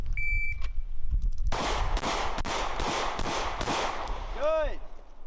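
A first-time shooter fires a handgun, giving a string of about six sharp, loud shots at uneven intervals, followed by a brief electronic beep and rising tones, with background chatter.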